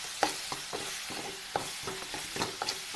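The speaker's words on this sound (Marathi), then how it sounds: "हा हळदी आणि नमक टाकून घेतलेलं आहे आता हलवून घेते ह्याला" A spoon stirs sliced bitter gourd with turmeric and salt in a hot pan, giving rhythmic scraping strokes over a steady close sizzle.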